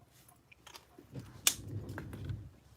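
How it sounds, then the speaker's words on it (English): A pet gnawing on an electrical cord indoors, close small bites and crunchy chewing with one sharp snap in the middle, quiet room between bites. "Nope, we don't chew electrical cords."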